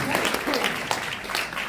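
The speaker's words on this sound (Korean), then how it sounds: "박수 한번 쳐주셔야 되겠습니다" Audience applause at a talk-concert book launch for a justice minister, steady clapping throughout a short stretch with voices mixed in.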